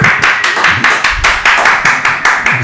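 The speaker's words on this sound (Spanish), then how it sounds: "Un aplauso. Por favor." Audience clapping at a Spanish-language talk show greeting a guest, heard as a steady, evenly spaced run of about a dozen sharp, close claps rather than a dense crowd roar.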